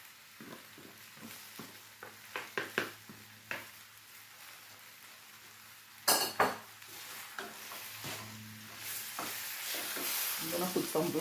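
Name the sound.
ackee frying and being stirred in a pan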